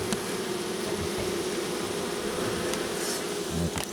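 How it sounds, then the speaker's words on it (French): Honeybees buzz and fan at a hive entrance, a dense, steady drone of many wings close by with no break, alone and without speech. "elles battent le rappel devant la ruche"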